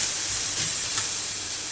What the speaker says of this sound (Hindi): अरे अदरक और लहसुन की जो पेस्ट डाली है उसको ज़्यादा नहीं भूनना है